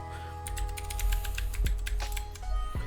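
Rapid keystrokes on a computer keyboard while a password is entered, a steady run of close, crisp clicks with a few heavier taps over a low background hum.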